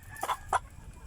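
Backyard Rhode Island crossbreed chickens give two short, close clucks in quick succession against a faint background hum.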